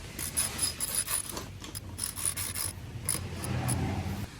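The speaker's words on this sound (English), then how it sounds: "Just drop the seat on the post and tighten it with a wrench." A Schwinn comfort bike seat clamp being tightened onto the seat post with a wrench, giving a series of close, faint ratcheting clicks and metallic rubbing in short bursts, with no speech.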